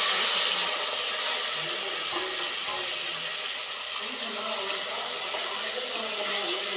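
Whole spices sizzling in hot oil for a vegetable biryani, a steady bright crackling hiss that stays loud for several seconds, with a voice faintly heard underneath.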